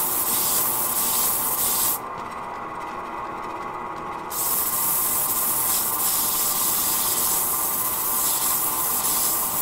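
Lapidary cabbing wheel grinding ironstone off a stone at the bench, a steady loud rushing, scraping hiss with a brief dip in the highs partway through before the grinding resumes at full strength; no talking.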